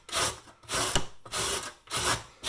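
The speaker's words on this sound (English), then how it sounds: "Just grate the carrot." A carrot being grated on the large side of a handheld grater, making repeated rasping strokes in a steady back-and-forth rhythm, close and fairly loud, with no talk.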